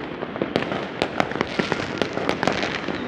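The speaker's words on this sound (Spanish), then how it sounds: "Miren la cantidad de fuegos artificiales." Many fireworks pop and crackle in quick irregular bursts over Lima, seen from above, some sharp and close, others fainter and distant, forming a continuous barrage.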